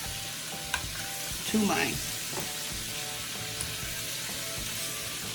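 Sliced salted pork belly fries in a pot with a steady sizzle and occasional stirring sounds, while a voice talks briefly over it.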